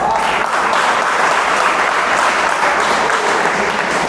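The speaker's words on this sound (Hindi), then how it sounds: "इस पे अगर अच्छा लगे तो ताली मारिएगा।" Audience applause at a Hindi poetry recital, a dense continuous roar of many hands clapping, loud and sustained throughout with no break.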